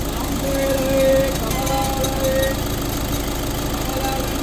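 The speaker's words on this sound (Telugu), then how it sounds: "ఇంజన్ బీటింగ్, ఒకసారి మీరు అబ్జర్వ్ చూడండి" A 2016 Volkswagen Polo Highline Plus diesel engine idling, a steady low rumbling drone with faint periodic whines, continuous and fairly close.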